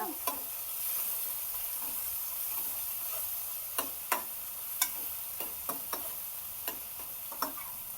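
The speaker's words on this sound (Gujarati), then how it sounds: "એક ટમેટાને જવા દઈશું એને સારી રીતે બધું મિક્સ કરી દેવાનું છે" A steady sizzling hiss from a hot pan, broken by scattered sharp clicks and taps as the food is stirred.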